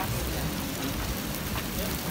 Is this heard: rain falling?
yes